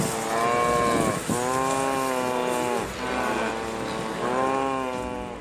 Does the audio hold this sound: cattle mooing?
yes